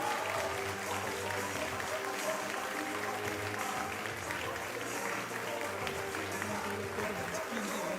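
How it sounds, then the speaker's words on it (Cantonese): A crowd claps steadily for about eight seconds at a press conference for the top 100 contestants of the third Middle-Aged Good Voice singing contest, a dense, continuous roar of hands with voices talking over it. "我哋俾多啲掌聲"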